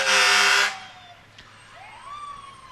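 A Birdseye Volunteer Fire Department fire truck in the 2015 Schnellville parade sounds a loud, harsh blast, then a fainter siren wail rises and holds at a distance.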